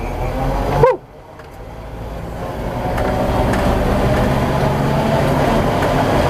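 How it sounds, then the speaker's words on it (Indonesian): An old Toyota FJ hardtop is driven, with a steady engine and road rumble filling the cabin after a brief sharp squeal near the start, then building and holding evenly, close and without talk. "langsung aja kita rasain gimana rasanya bawa si FJ ini"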